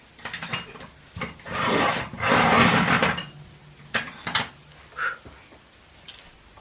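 A coloured pencil is sharpened by hand in short bursts, a dry scraping rasp with a few brief grinding strokes and small clicks between pauses, close and fairly quiet.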